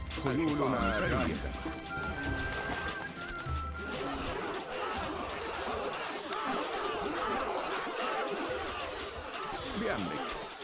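Horses whinny and gallop in the strategy game Stronghold: Crusader, an early neigh giving way to a dense patter of hooves mixed with chatter and spoken lines.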